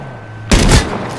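A loud, close burst of gunfire from PUBG played on PS4, a sharp crack with a short rattling tail after a quiet start.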